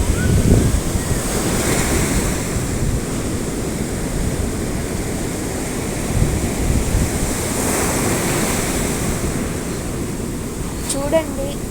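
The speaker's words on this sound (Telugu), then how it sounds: "చూడండి నీళ్ళు వస్తూ ఉన్నాయి." Sea waves wash continuously onto a sandy beach, a loud, steady roar of surf mixed with heavy wind buffeting the microphone.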